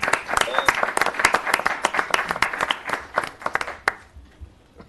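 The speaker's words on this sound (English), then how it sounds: "Big round of applause for Pat Caprell and the finance department." A town board meeting audience claps for the finance department, a burst of crisp individual claps from a modest group that thins and fades out over the last second.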